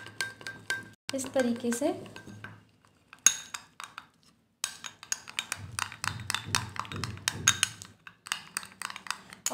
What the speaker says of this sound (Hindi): यहाँ पे मैं लूँगी 2 टेबलस्पून ऑरेंज जूस को मिक्स कर लूँगी